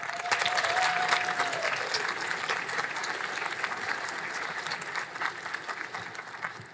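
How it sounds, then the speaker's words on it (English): Graduates at a fall graduation ceremony applaud the faculty and staff, a dense steady wash of clapping from a large crowd that slowly thins toward the end. "give the opportunity for the graduates to offer their applause to the faculty and staff here and thank them as well"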